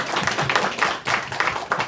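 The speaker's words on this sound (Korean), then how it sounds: "우리 나눔 선교를 만드신 하나님께 영광 박수 올려드리겠습니다." A congregation claps during a Sunday worship service in a church, a dense, steady patter of many hands with slight swells, close and fairly loud, with no talking over it.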